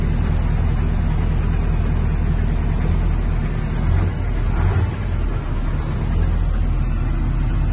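A 2016 KAMAZ 6520-43 truck engine idles before warming up, giving a loud, steady, close diesel rumble that holds throughout with no revving.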